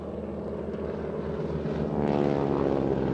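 Propeller aerobatic aircraft flying inverted at the RAF Waddington airshow, a steady droning engine hum with a faintly pulsing tone that swells slightly toward the end, heard at a distance.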